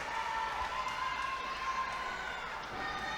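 A wrestling crowd at a live SFCW tag team title match roars in a steady wash of distant cheering and shouting, with a commentator's voice over it.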